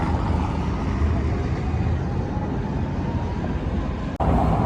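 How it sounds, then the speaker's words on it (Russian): A crowded tram rolls past on an Odessa street, giving a steady, loud rumble and rail roar that holds evenly throughout with no voices over it. "посмотрите, какой переполненный одесский трамвайчик"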